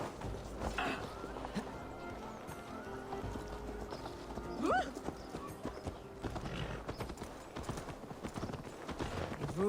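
A horse ridden through the fens in Assassin's Creed Valhalla clip-clops at a steady walking rhythm, hooves close and clear, with a brief whinny partway through over quiet ambient sound.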